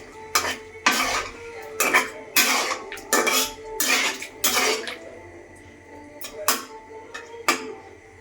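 A metal spatula scrapes and clinks against a pan while shing fish fries, giving repeated rhythmic stirring strokes about once a second over a faint background.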